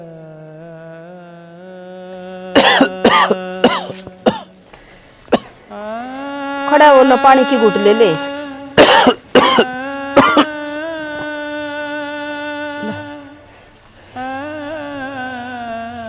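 Person coughing in a Haryanvi family drama, several sharp bursts of coughing in clusters, interspersed with a sustained tonal background and people talking.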